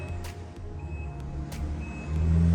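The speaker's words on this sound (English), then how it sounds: "I apologize for all the loud trucks in the background." A heavy truck engine rumbles nearby and grows louder toward the end, with faint beeps and a brief hiss of air, as loud trucks pass in the background.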